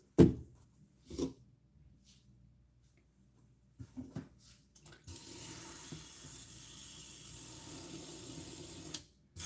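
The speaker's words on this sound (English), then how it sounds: "I'll do a light gray base overspray on the 222." Airbrush spraying a light gray base overspray onto a figure, a steady hissing spray that runs continuously for about four seconds after a few short bursts, then cuts off.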